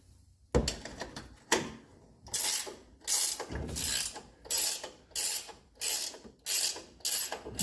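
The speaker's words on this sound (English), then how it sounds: "Get them started and I'll get me a wrench on them there" Hand ratchet wrench tightening the top strut bolts on a 2015 Ram 1500 pickup during a leveling kit install, a series of about eight distinct clicking bursts in a steady rhythm, close and fairly quiet.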